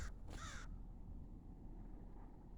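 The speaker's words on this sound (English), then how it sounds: "where is that crow?" Two loud caws from a crow outdoors on a nature hike, a short one followed by a longer harsh call, then only quiet outdoor background.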